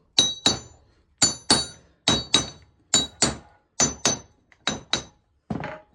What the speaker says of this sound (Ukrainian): І так по кругу молотком.